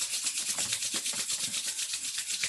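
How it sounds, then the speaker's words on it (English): Two hands rub together in steady back-and-forth strokes during a meditation, a close, even, breathy swishing that repeats rhythmically for the whole stretch with no voice over it. "As you rub your hands together."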